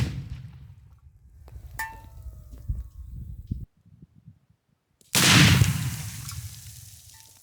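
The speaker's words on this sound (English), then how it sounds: "So we heard quite big explosion." Faint rustling and handling noises, a short pause, then one loud, booming blast that roars on for a couple of seconds as a detonator sets off a German WW2 Sto.Mi.43 concrete mine.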